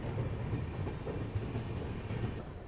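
A train rolls along a rail line near Agra, on the track toward Bharatpur, giving a steady low rumble with faint rhythmic clatter from the wheels, moderately close and with no talk.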